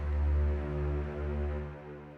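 Low Abbey Road string layer run through EQ and a tape saturation plugin, a steady, warm sustained drone with stacked low harmonics, moderately loud and unbroken for about two seconds.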